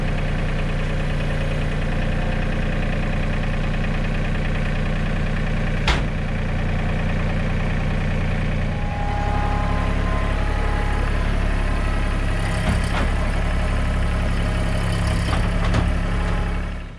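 A tractor fitted with forks idles and runs nearby with a loud, steady diesel chug, then the engine note shifts and grows rougher partway through, with a few clanks over it.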